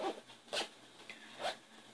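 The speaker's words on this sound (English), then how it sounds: "Let's check that zipper out." A zipper on a sewn Batman bag is run open and closed in three short, close zips spaced across a quiet background.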